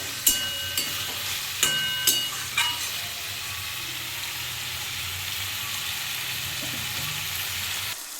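Spinach and fish head chachhori sizzles hard in a pan over a high gas flame, making a continuous bright hiss that opens with a few sharp clinks and scrapes, then settles into an even, unbroken frying noise.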